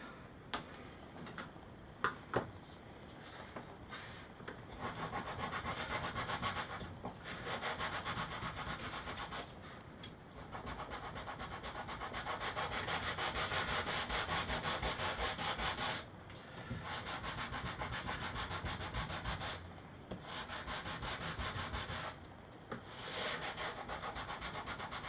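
Sandpaper rubbed against a wooden part of a USS Constitution model ship kit, rhythmic scratchy strokes in repeated bursts with brief pauses, close and steady throughout.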